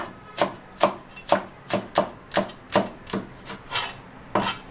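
A knife chopping pickled vegetables into small pieces on a cutting board, about ten evenly spaced crisp thuds in a steady rhythm, close up with no talking.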